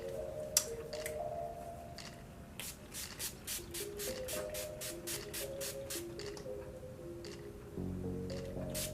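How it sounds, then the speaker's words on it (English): NYX matte finish mini setting spray misted onto a face, a series of short, soft hissing puffs in a quick regular row over a faint steady background. "now I'm gonna spray my face with my matte finish mini NYX spray."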